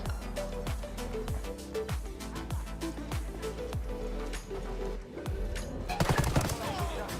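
Automatic weapons fire in Ghost Recon Wildlands, a steady, rapid string of close, punchy shots. A denser, louder burst comes near the end.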